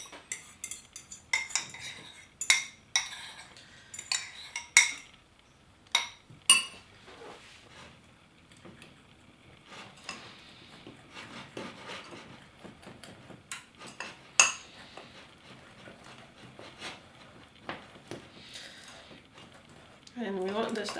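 A utensil stirs a thick mixture of milk, sugar and egg yolks in a pot for chocolate cake, giving irregular clinks and scrapes against the metal, some louder taps, all close up.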